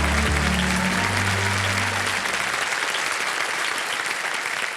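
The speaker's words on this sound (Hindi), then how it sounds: "एक बार फिर जोरदार तालियां बज जाएं इनके लिए" Loud, sustained applause from a studio audience on a quiz game show, a thick wash of clapping that runs the full length, with low musical tones underneath that fade out midway.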